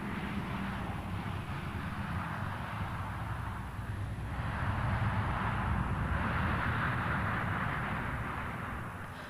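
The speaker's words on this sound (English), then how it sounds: "The Meteorological Office in Britain makes regular flights with its special weather plane" A Met Office special weather research plane in flight over Britain, heard as a steady broadband engine roar that holds at constant loudness and swells slightly midway through, with no voices.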